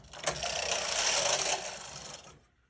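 A knitting machine carriage slides across a row of stitches in one continuous rasping, whirring pass lasting a couple of seconds, close and fairly loud, then stops.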